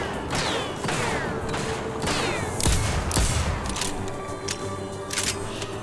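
Rapid, loud bursts of enemy gunfire in TimeSplitters Rewind, sharp repeated shots cracking in quick succession alongside whizzing ricochets, almost without pause.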